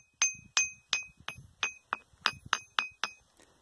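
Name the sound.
striking a ringing volcanic stone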